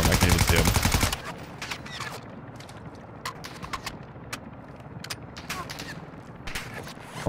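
Gunfire in the video game DMZ, rapid bursts of sharp shots crackling at mid distance after a loud, dense opening burst, continuing intermittently over quieter game ambience.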